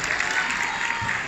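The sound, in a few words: applause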